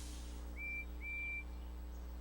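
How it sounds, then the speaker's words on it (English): Two short, high whistle toots from Percy the tank engine in Thomas & Friends, sounding faint and distant over a low steady hum, the second note longer than the first. "Thomas listens to Percy's whistle."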